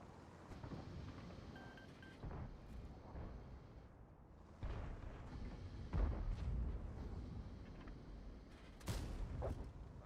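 Tank cannon fire in World of Tanks: a few heavy, booming blasts at uneven intervals rise out of a steady windy rumble, with no voices.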